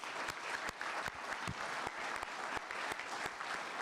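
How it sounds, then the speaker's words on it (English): A modest crowd claps for award recipients at a sheriff's office awards ceremony, steady quiet applause with individual sharp claps standing out, fairly distant and alone throughout. "join me in one last final congratulatory round of applause"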